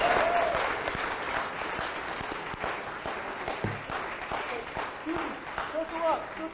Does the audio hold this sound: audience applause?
yes